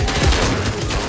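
Gunfire in the video game Fortnite, a short, loud, dense burst of rapid shots packed tightly together, with no voices over it.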